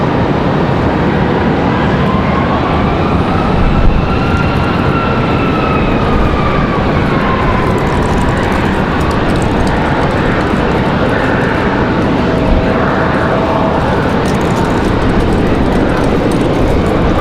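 An American Airlines airliner moves near the runway at Raleigh Durham on a windy day, a loud continuous engine roar with gliding whine tones that rise and fall while it passes close by.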